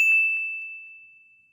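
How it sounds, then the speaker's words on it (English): A single bright notification-bell ding rings out cleanly and fades slowly over more than a second, with nothing else in the background. "hit that notification bell"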